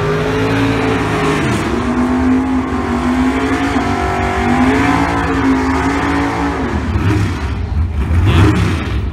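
A drag car makes a naturally aspirated pass at a drag strip, its engine a loud, sustained roar with rising and falling harmonic sweeps as it accelerates through the gears, with no talk.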